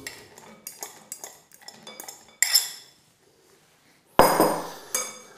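Almonds rattle and clatter into a metal pan, first as a run of light clinks, then a louder pour, a pause, and another loud tumbling burst close up, with no talking.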